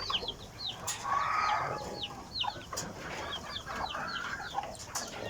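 Backyard chickens on a small farm cluck and chirp in short repeated bursts during a morning feeding, with some louder nearby calls over steady outdoor ambience and no talking.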